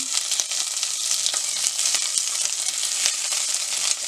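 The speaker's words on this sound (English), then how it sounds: "I'm going to fry it a little bit" Finely chopped onion fries in a pan with cinnamon, cloves, green cardamom and green chili, giving a bright, dense, close sizzle that crackles evenly throughout with small popping ticks.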